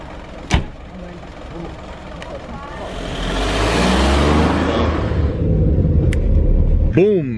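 A car engine rumbles steadily inside the vehicle, swelling into a louder drone midway through the ride, with a sharp knock near the start and voices talking over the top.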